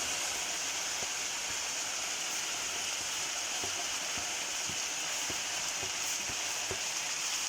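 Vegetables frying with chicken shashlik in a hot pan give a steady, even sizzle with faint scattered clicks of stirring, close and continuous, with no talking.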